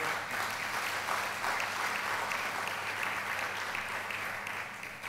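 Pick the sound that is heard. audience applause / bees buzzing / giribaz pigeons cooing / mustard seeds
audience applause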